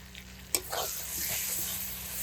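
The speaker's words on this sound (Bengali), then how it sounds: "ভালো করে নাড়াচাড়া দেব। দিয়ে দিলাম একটা টমেটো।" Pork gravy with tomato is stirred in a pan over a wood-fired stove, with a sharp knock of the spoon and then a continuous close sizzle and bubbling.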